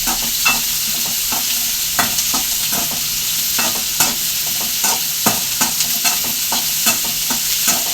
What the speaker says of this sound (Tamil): அந்த எட்டு முந்திரி எடுத்து வச்சுருக்கோம் பார்த்தீங்களா அதையும் நம்ம எண்ணெயில் போட்டு வதக்கிறோம்